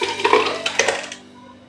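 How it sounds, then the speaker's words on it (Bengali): Boiled tomatoes poured into a blender jug, a short wet slosh and splatter with light clinks against the jug, close and fairly loud, fading out quickly. "একটা ব্লেন্ডারের জগে আমি টমেটোটা ঢেলে দেব।"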